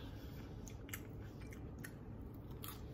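Close, quiet chewing of crunchy air-fried palmini pasta, with repeated crisp bites and crunches in an irregular rhythm and no talking.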